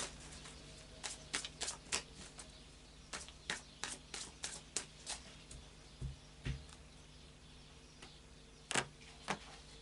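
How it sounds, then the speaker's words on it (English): Oracle cards are shuffled by hand in a quiet room, a series of short, crisp riffling bursts in an irregular rhythm, close and fairly soft, with no voices. "And another few shuffles."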